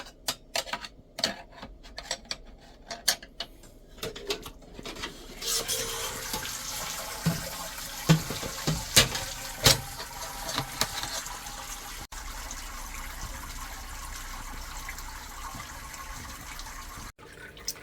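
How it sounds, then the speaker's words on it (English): Wort drains from a lifted grain basket after the sparge during a homebrew Hazy IPA brew day, a soft trickle with scattered drips and splashes that grows into a steadier, faint flow. "the grains are just draining out from the sparge being completed"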